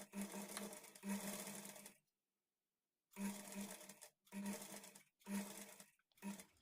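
An electric sewing machine stitches blouse fabric in short whirring runs of about a second each, separated by pauses, quiet and close with no voices.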